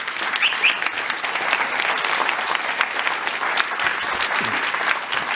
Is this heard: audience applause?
yes